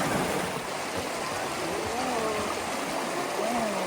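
A snow-fed creek in the Victorian High Country rushes and gurgles as a steady, close wash of flowing water. Faint voices sound under it in places.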